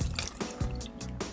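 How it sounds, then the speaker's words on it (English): Mushrooms rinsed by hand under running kitchen water, giving a short splashing trickle with irregular drips and spatters, close and moderately loud, with no talk. "we gotta make sure and wash these mushrooms"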